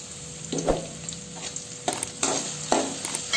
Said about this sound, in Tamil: இது இப்போ கொஞ்சம் நல்லா வதங்கிடட்டும்.